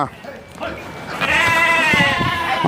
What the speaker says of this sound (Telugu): గొర్రెలు వచ్చినాయి గొర్రెలు లేవిడా